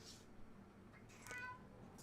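A house cat gives a faint, short meow, with a softer mew before it, in a quiet room.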